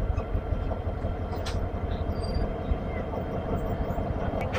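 A Hyundai Rotem diesel-electric locomotive idles at a station in Bangladesh, a steady low engine rumble running throughout with faint background voices and station noise.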